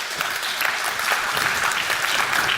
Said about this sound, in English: Give him a round of applause to say welcome back.